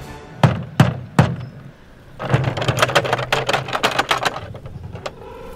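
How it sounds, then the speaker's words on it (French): Three sharp knocks on a wooden door ring out close and loud, then after a pause a rapid burst of many quicker knocks follows, uneven and rattling, alone without voices. "retint son souffle et frappa à leur porte"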